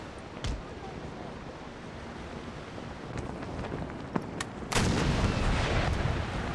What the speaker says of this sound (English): Whoa, shots all the way through their hull there.